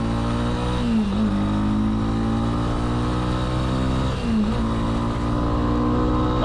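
A Honda CB300R motorcycle engine drones loudly and steadily as the bike pulls away from a roundabout on a country road, pitch rising through the revs with two brief dips at gear changes, heard up close.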